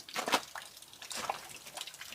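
Meltwater trickling and dripping under the eaves of a rural house in snow, a faint, soft patter of splashes and flowing water with no voices.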